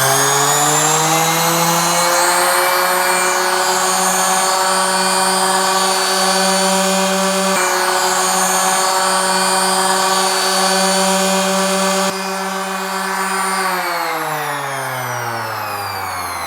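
A Kyocera ARSE-1250 orbital sander runs with no load, a loud steady motor whine with strong harmonic tones that holds level, drops slightly in pitch partway through, then winds down near the end.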